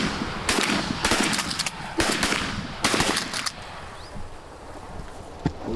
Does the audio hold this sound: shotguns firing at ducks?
yes